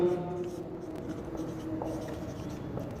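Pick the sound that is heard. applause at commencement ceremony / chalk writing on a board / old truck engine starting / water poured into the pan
chalk writing on a board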